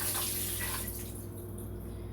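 Water trickles and splashes softly as soaking water drains off cashews, a quiet steady pour that fades toward the end.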